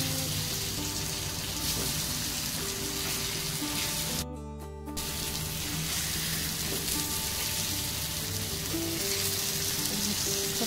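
Halwa fish frying in a pan gives a loud, continuous hiss and crackle of hot oil that cuts out briefly for a moment midway, then resumes just as strongly. No one speaks.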